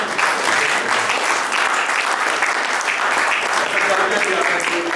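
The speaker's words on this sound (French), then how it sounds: "Et nous acclamons très fort." A church seminary audience applauds steadily and loudly, with dense continuous clapping and some cheering filling the whole stretch.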